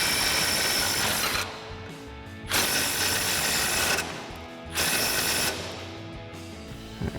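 A power ratchet wrench runs out the lower mounting bolt on a 2020s Silverado 2500 during a leveling kit install, whirring in three steady bursts of about a second and a half each, with short quiet gaps between.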